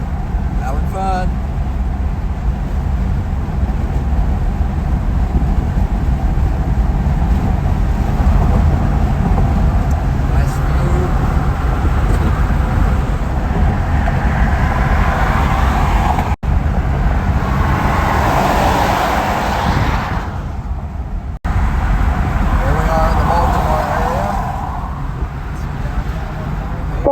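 A 1967 Lincoln cruises down a freeway near the Susquehanna River, its steady engine and road drone continuous and close throughout, with someone talking over it.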